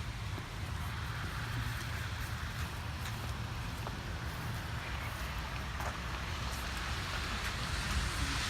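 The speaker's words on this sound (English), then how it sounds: "It's a rainy day today, right?" Rain falling outdoors on a rainy-day nature walk: steady, soft, even hiss of rainfall with faint scattered patters, quiet and continuous throughout, with no clear talk.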